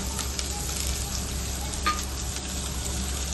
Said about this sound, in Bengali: কড়াতে আমরা তেল দিয়েছি, আর এখন আমরা কুচিয়ে রাখা গার্লিকগুলো অ্যাড করছি